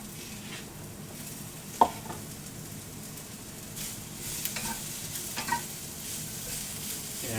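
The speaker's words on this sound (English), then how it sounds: "You start hearing a little bit more sizzle from that." Steady sizzling of onions and garlic frying in a pan, continuous and moderately loud, with a few soft clicks and stirring knocks along the way.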